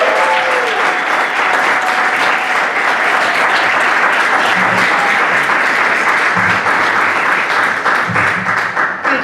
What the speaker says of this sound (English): Come on, let's give a rousing applause for her.